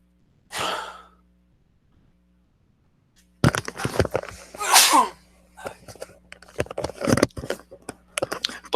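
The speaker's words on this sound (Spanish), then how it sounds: "Disculpen que estoy que estornudo." A single sharp sneeze bursts out near the start, followed after a pause by loud breathy sighs, gasps and rustling handling noises close to the microphone.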